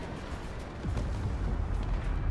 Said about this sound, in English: We have also some nice explosions in the rear area